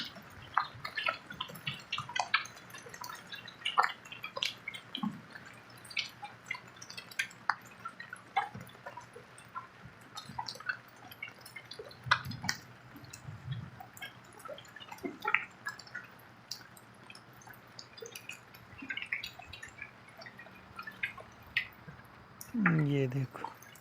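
Heavy rain in Saudi Arabia falls as scattered, irregular drips and splashes of water, fairly close, with people talking throughout.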